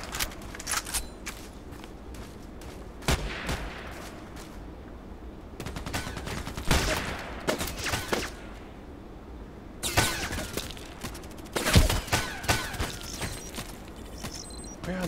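Gunfire in the Contract Wars video game, bursts of automatic shots near and far mixed with footsteps and mechanical clicks, loudest in clusters toward the middle and end.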